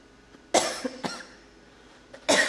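Several sharp, close coughs from one person, with a harsh burst at the start, a smaller one after it and another loud burst at the end, each separated by brief quiet.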